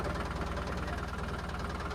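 A tractor engine chugs steadily at close range while driving on a road, a loud, continuous rumble with a fast knocking pulse and no pauses.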